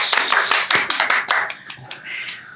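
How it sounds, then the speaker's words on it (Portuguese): A small group claps for a guest on a podcast set, a short burst of sharp, close hand claps that thin out over a couple of seconds with no talking. "Aplausos!"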